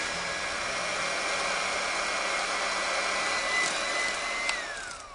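Electric whisk beating eggnog cream with Advocaat being added, a loud steady close motor whine with a constant high tone and a brief pitch dip near the end, no talking.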